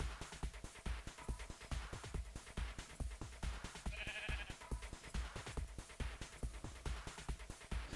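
Sheep bleat in a German-language Minecraft playthrough, an in-game animal call rising briefly over a dense, steady bed of rhythmic game sound and music that runs throughout.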